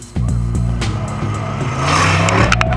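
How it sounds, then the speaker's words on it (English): A Nissan Patrol T1 rally car at a desert rally stage start revs hard, its engine loud and close with a rising, sustained roar and tyre noise. "the Nissan Patrol were the first T1 car to start."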